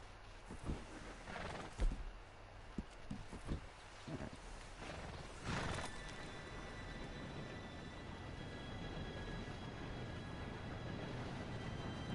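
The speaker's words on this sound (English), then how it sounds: "Train should be here any minute now." An approaching train in the Western video game Red Dead Redemption 2, a low rumble building into a steady continuous roar, preceded by scattered horse hoof clops and snorts nearby.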